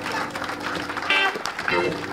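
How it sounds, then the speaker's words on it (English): A crowd at a Beastie Boys club show cheers and claps in a loud, busy burst mixed with shouts, and voices carry over it. "How about a great big round of applause?"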